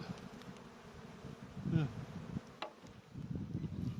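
Many bees buzz around the area of their nest outdoors. The hum is faint and continuous, with one insect drifting briefly closer.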